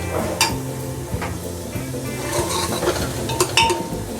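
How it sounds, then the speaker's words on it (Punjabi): Potatoes and peas are roasted and stirred in a pan for Punjabi aloo matar, with a spoon clinking and scraping against the metal at irregular intervals over a low, steady sizzle. "ਹੁਣ ਅਸੀਂ ਇਹਨਾਂ ਨੂੰ ਵੀ ਚੰਗੀ ਤਰ੍ਹਾਂ ਭੁੰਨਾਂਗੇ ਜੀ"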